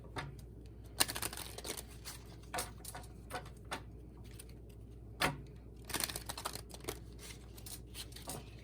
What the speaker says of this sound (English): Apologize for the shuffling. I have to shuffle till it feels right.